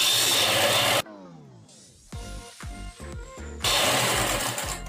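Sewing machine stitching a kaftan dress, a short burst of mechanical whirring between two stretches of loud noise, its rhythmic needle strokes close and fairly soft.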